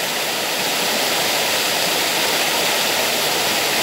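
Steady, loud rush of a river stream flowing, continuous broadband water noise close by with no voices heard.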